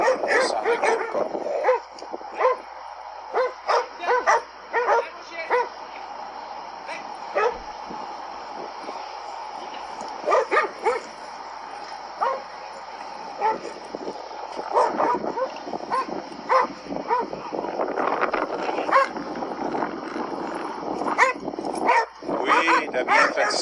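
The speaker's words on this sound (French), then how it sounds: "Là, ton chien entend japper, il voit courir des chiens." Several dogs bark and yap in repeated bursts, some near and some farther off, while a person speaks at intervals and the noise grows busier toward the end during training of a reactive dog.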